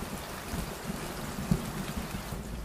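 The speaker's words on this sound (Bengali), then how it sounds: "ঝমঝম করে বৃষ্টি নামলো।" Heavy rain pours steadily as a cartoon sound effect, a dense continuous hiss of rainfall with a faint rumble of thunder beneath, evenly loud throughout with no voices.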